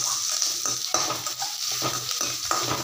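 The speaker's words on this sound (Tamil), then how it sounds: "சோம்பு தாளித்து பொரிஞ்சோடனே இதில் வெங்காயத்தை போட்டுக்கலாம்" Sliced onions go into a pan of hot oil with spluttering fennel seeds, a close, busy sizzle punctuated by regular scraping strokes of a spoon against the metal pan, with no voices.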